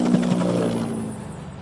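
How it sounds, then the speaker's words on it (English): Bell UH-1 Huey helicopter in The Grand Tour Game, its rotor giving a short burst of low rhythmic wumping that fades within a second or two, no talk. "I think a Huey is coming. There's Mr. Huey, there's the evocative wump."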